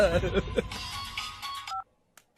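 A telephone is dialed in an action movie scene, with a brief run of tones and a sustained dial beep after a voice speaks over the start, and then silence.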